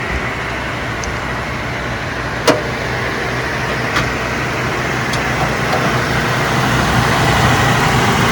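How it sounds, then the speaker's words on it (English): The gasoline engine of a 2011 Ford E450 idles steadily and smoothly, a continuous even hum with a couple of faint clicks along the way. "Good smooth running gasoline engine."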